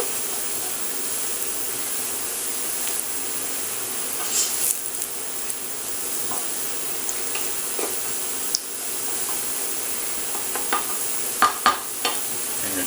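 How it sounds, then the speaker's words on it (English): Onion sautés in a pan with a continuous soft sizzle and hiss, close by. Occasional clicks and scrapes of stirring break through now and then, and no one speaks. "our onion is starting to color nicely now"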